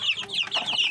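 A hen with her chicks in a backyard farm, heard as quick high chick peeps over soft low clucking in one brief, close burst.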